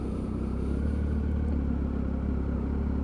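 A Triumph Tiger 955i motorcycle cruises with the clutch pulled in, its engine holding a steady, even idle-like drone under continuous wind and road rumble.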